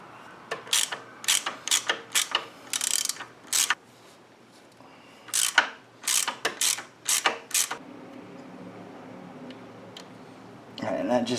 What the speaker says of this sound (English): So the next step is to take the counter shaft off.